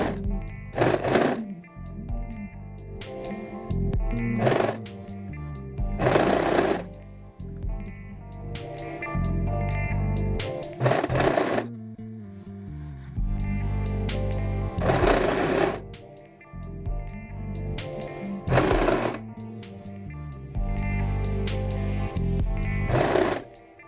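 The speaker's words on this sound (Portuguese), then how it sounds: "E agora eu tenho que costurar aqui no decote." A sewing machine stitches the neckline of a cardigan in repeated loud runs of rapid mechanical whirring, several bursts broken by short pauses, close and with no talk.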